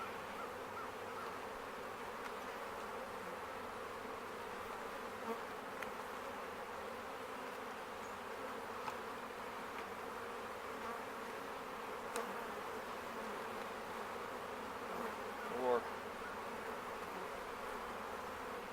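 Honey bees buzzing around an opened hive in February, a steady low drone of many bees close by, with a few faint knocks and scrapes from handling the boxes.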